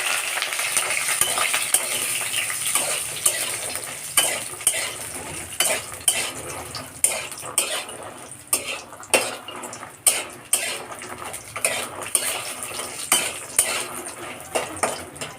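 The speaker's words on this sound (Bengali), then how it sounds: "এবার আমি এর মধ্যে এই বড়িগুলো দিয়ে ভেজে নেব" Lentil dumplings (bori) fry in a pan of oil, with steady sizzling under repeated metal scrapes and clinks as a utensil stirs them against the pan in an irregular rhythm.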